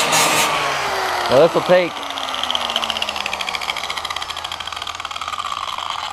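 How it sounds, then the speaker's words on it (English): A quick blending wheel grinds a damaged spot on a canoe or kayak hull while repairing a hole, giving a steady, close whirring rasp that runs throughout, with someone briefly talking over it. "I'm just going to use a quick blending wheel just to hit it real quick."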